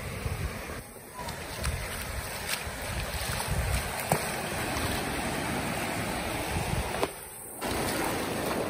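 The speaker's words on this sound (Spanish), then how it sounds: "el oleaje está súper calidad" Ocean surf at La Muelona beach in Jagüey, El Salvador, a continuous loud roar of breaking waves washing up the shore with wind buffeting the microphone, briefly dipping twice.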